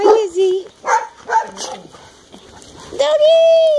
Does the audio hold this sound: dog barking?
yes